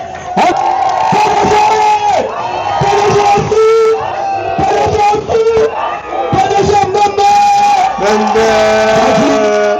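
A large crowd at a political rally cheers and shouts loudly throughout, with whoops and a voice speaking over the noise.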